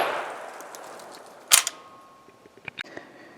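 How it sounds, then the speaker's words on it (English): A Zastava M56 semi-automatic rifle fires a single sharp, loud shot during a test firing, followed by a few faint metallic clicks and clatters. "When we're test firing, especially with the first time, we usually do magazines of 5 to 10 rounds."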